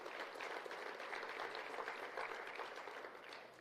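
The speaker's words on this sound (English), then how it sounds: "A round of applause" A crowd at a township economy awards ceremony claps for the award recipients, a steady wash of moderately distant applause that holds evenly and tapers slightly at the end.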